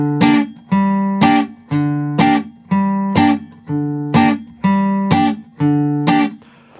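Acoustic guitar picks the intro of a bluegrass folk song, two bars of evenly spaced strummed chords repeating in a steady rhythm, close and clear with no voices.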